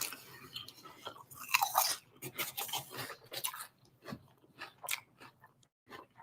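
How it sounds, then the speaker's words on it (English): Someone chews crunchy food close to the microphone, producing a rapid series of sharp, crisp crunches over a quiet background hum. "Is she purposely amplifying the crunching?"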